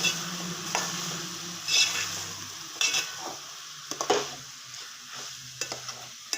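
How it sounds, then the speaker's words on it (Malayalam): Cooked jackfruit stirred and roasted in ghee over a low flame, a soft steady sizzle under repeated scraping strokes of a spoon against the pan, close and unhurried, with no talking. "ലോ ഫ്ലെയിമിൽ വെച്ചിട്ട് നമുക്കിതിനെ ഒന്ന് വരട്ടിയെടുക്കാം"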